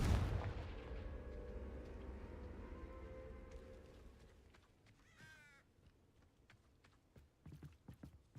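A Confringo fire spell blast in a wizarding video game, a loud burst at the start that decays over several seconds, with smaller bangs and crackles following near the end.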